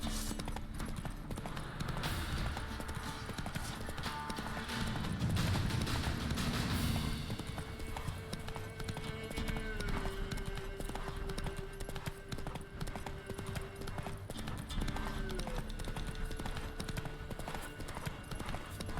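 Roach the horse from The Witcher 3 trots along in a steady, even clip-clop of hooves, carried the whole way through with game music and ambience underneath.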